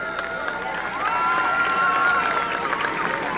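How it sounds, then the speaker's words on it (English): A speedway crowd at a school bus figure-8 and dwarf car racing event gives a sustained round of applause and cheering that grows a little louder midway, with an announcer's voice faintly underneath. "how about a nice round of applause for the Motor City Badman"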